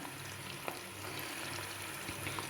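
Ginger, garlic and curry leaves fry in hot oil for a dried-fish pickle, giving a steady, soft sizzle with faint crackles and occasional small pops, heard alone and fairly quiet.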